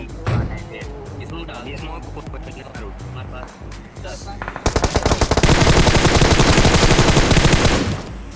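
Gunfire in a battle royale video game: scattered single shots give way to sustained rapid automatic bursts, loud and close, with a player talking over the action.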